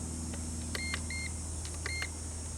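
Remote controller for a Drocon Cyclone X708W drone beeping: a pair of short, clear electronic beeps, then a single beep after a pause, over a steady background hum.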